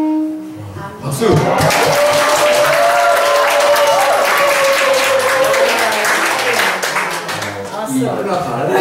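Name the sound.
congregation applause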